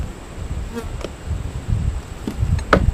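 Honeybee swarm buzzing during a late-July hive inspection, a steady close insect drone with a few individual bees zipping past the microphone, sounding alone without talk.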